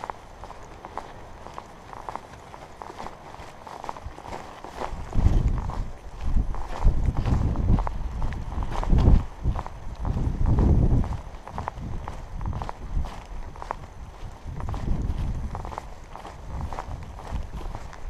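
Horse hooves on a trail during a hike along the Appalachian Trail in Virginia, a soft, uneven clopping that rises and falls with a few louder bursts, heard at a moderate distance amid outdoor background noise.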